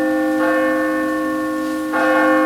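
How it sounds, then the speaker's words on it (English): Church bells toll loudly and up close, with a sustained ringing tone and two distinct fresh strikes about one and a half seconds apart, with no talk. "The bells have tolled."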